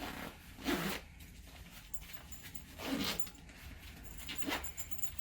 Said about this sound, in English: It's just a second zipper.